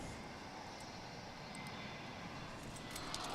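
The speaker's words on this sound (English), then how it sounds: "Got another plane coming in." An American Airlines Airbus A321 arriving at DFW International Airport, heard as a steady, broad jet roar that holds level throughout, distant and continuous with no voices.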